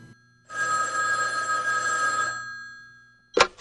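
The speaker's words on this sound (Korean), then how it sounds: "또 전화 왔네요." A telephone rings in a Korean talk-show setting: one long, loud, steady electronic bell tone for about two seconds, then a short sharp burst starting again at the end, with no voices.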